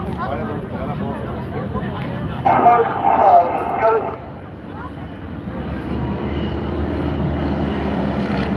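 A propeller aircraft flies a wing-walking display at the Ayr air show, 80 miles an hour with a performer standing on it. Its engine drones steadily and swells briefly, heard under continuous commentary from a man.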